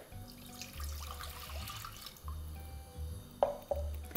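Water running into a pot on a kitchen stove while dough for Turkish tulumba is being prepared, a steady low pour with a couple of sharper splashes near the end.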